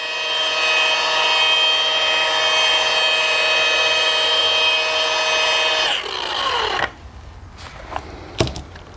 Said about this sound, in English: where I can just polish with one hand